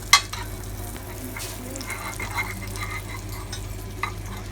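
Scallops (coquilles Saint-Jacques) searing in butter in a frying pan, a steady close sizzle with a sharp clatter at the start and a few light scrapes and taps through it, no talk.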